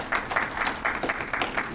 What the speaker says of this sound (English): Can we give these folks just a round of applause here?